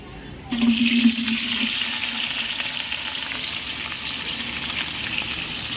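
Onions cooking in salted oil for a large batch of biryani, a steady broad frying hiss after a short start, continuous and fairly close throughout.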